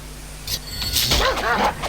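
Dogs in the Dungeon Siege video game giving a short burst of yips and whining barks, close and fairly loud, lasting under two seconds with no talking.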